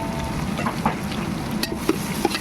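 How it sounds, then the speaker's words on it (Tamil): Steady sizzling and crackling of chopped tomatoes sautéing in a pan for chicken gravy, with occasional stirring clinks and scrapes, close and continuous. "நல்லா போட்டு கொஞ்ச நேரம் வதக்கலாம்"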